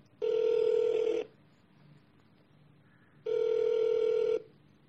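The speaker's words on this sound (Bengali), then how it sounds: "দাঁড়াও, ওকে একটু ফোন করে দেখি।" A telephone rings out twice in a calm room, each long bell-like ring lasting about a second, separated by a quiet pause with a faint tone.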